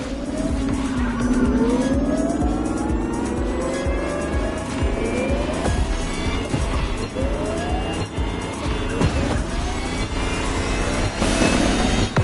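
The Lamborghini Terzo Millennio electric supercar races in The Crew Motorfest with a loud, continuous whine that rises and falls in repeated sweeps as it accelerates. Tire squeals and skids punctuate a steady, close driving sound.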